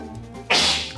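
A single sudden, loud sneeze bursts out close by, then fades quickly against a quiet indoor background.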